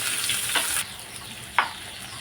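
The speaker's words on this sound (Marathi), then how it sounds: "कांदा आणि खोबरं एकत्र आपण एकदम गोल्डन ब्राऊन होईपर्यंत भाजूया।" Chopped onions and grated coconut dry-roasting together in a pan for misal, giving a soft continuous hiss with a couple of faint scraping ticks, quiet and close, without any talking.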